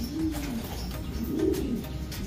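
Soft, low pigeon coos rise and fall twice, close by, over a faint steady background hiss.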